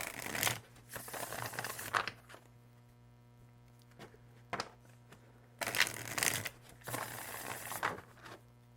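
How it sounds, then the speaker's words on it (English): A deck of cards being shuffled by hand, several separate bursts of riffling and rustling broken by pauses, close over a steady mains hum. "I'm going to shuffle and draw it out and draw some cards for you"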